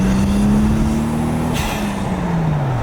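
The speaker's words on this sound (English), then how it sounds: "this is the sound of the car you get from the outside" A Toyota Supra heard from outside as it drives, its engine note holding a steady tone that rises slightly and then falls away, loud and continuous with no talking.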